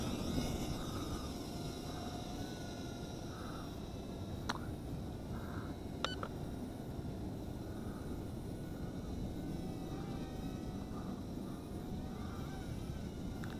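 A JJRC JJ800 drone flies outdoors in a light breeze, its steady buzzing hum continuous and fairly close for the whole stretch, with a couple of brief clicks partway through.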